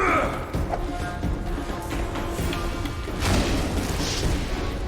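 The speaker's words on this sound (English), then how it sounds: "start throwing bombs at him" Bombs thrown in combat in The Witcher 2 video game burst in a run of heavy booms and crashes. The impacts are loud and dense, piled over constant battle noise for about five seconds.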